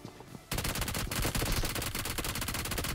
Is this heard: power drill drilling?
no